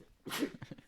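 A single sharp sneeze bursts out close by during a casual sports-prediction chat, followed by a few soft breathy sounds and faint murmuring.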